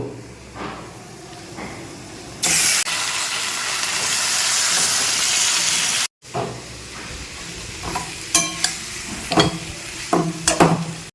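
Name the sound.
chicken meat added to a hot pan and frying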